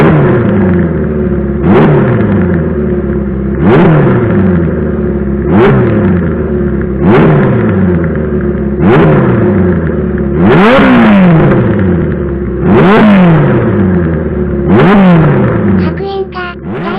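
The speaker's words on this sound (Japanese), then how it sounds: "約油温が80度まで上がったので、回転数を上げていきます" Honda CB400F four-cylinder motorcycle with a hand-bent short exhaust revs repeatedly from a warm idle, about eight loud, close blips rising and falling in a steady rhythm, with no talk.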